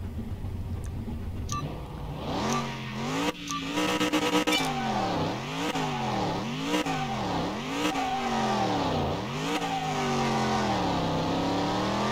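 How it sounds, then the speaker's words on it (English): A 1990 Caprice engine revs repeatedly in Car Mechanic Simulator 2021, pitch climbing and falling in rhythmic waves, loud and continuous with a synthetic, game-like quality. "This is so crazy to think I'm about to drive my car in this game."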